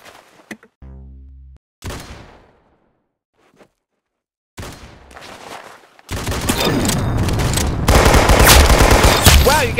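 Gunfire in a video game shooter: a few sparse game effects first, then from about six seconds a loud, dense, sustained fusillade of rapid machine-gun bursts running continuously to the end.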